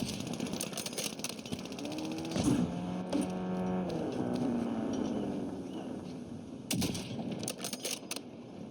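A vehicle engine in the video game Warzone Verdansk hums steadily at middle distance for several seconds, rising and falling a little, alongside bursts of rattling gunfire at the start and end.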